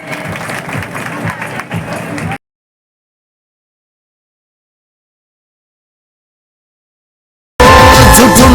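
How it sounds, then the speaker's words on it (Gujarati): Audience at a women's community convention in Thaltej, Ahmedabad applauding a welcome, with a dense burst of clapping and crowd noise at the start, a long silent gap, then loud clapping returning at the end. "આપણે ખૂબ જોરદાર તાળીઓથી સ્વાગત સ્વાગતને વધાવીએ"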